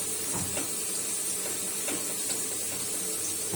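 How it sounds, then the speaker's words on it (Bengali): Potato slices fry crisp in a pan of hot oil tempered with black cumin and dried red chilli, giving a steady close hiss and sizzle with light crackles throughout and no talking. "আলু ভাজা হচ্ছে, কালো জিরে শুকনো লঙ্কা ফোড়ন দিয়ে করা হয়েছে"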